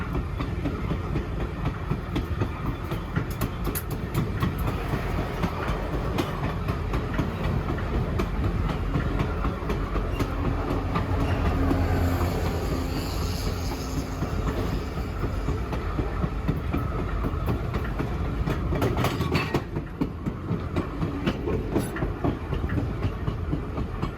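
Alaska Railroad passenger train rolling north through snowy country, a steady near rumble of wheels on track with rhythmic clickety-clack and car noise throughout, no talk.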